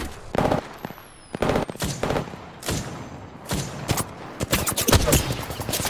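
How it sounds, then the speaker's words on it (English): Apex Legends gunfire, close bursts of automatic shots and single cracks in irregular clusters, loud and sharp. "Listen up, I'm getting shot at"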